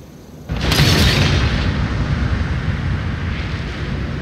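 Catapult stones crash down in a Total War: Shogun 2 battle between Joseon and Ming China, a sudden loud boom followed by a sustained rumbling roar of impact and debris.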